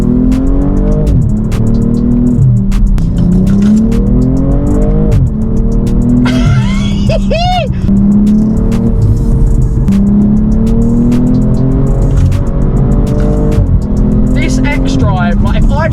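A car drives and accelerates on a damp road, its engine loud and steady throughout with rising and falling revs and faint tire noise, close up inside or near the car.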